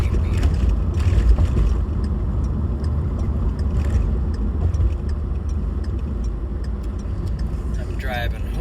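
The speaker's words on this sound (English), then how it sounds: "I'm driving home after work." Car interior while driving home after work, a steady low road and engine rumble heard from inside the cabin, continuous and moderately loud, with a brief chirp near the end.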